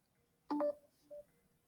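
Two short telephone keypad tones on a phone being muted, a quick double beep followed by a single fainter beep, heard alone against a quiet background.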